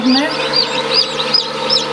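Many newly hatched desi chicken chicks from an incubator cheep in high, rising peeps, a busy overlapping chorus close by with a low background hum.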